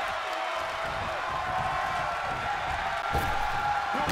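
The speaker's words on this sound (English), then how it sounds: "The sound of this crowd is deafening, and he's asking for more." A wrestling arena crowd at a New Japan Pro-Wrestling six-man tag team match roars steadily in a continuous wash of cheering and shouting, heard from a distance at moderate level.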